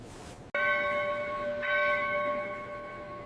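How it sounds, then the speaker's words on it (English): A loud bell rings out at a train station, starting with a sharp strike and then sustaining a rich, ringing tone that slowly fades, with a second strike partway through. "Listen to the loud bell now."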